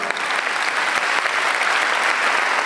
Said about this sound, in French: On va applaudir l'orchestre